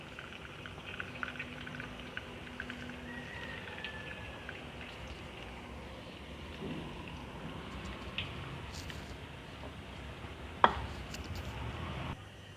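Masala fries sizzle in hot oil, a steady dense crackle and bubbling that holds at an even, moderate level throughout with a few sharper pops.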